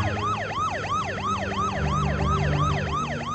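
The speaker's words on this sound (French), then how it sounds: "Hommes et ambulances se précipitent." Wailing ambulance sirens, loud and close, sweeping up and down in a steady rapid cycle with a low vehicle rumble beneath, no voices.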